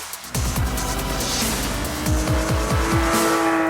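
Race cars at a track with Porsche GT3 machines, engines revving hard through repeated gear shifts and rising whines, loud and close, with a tire squeal in the mix.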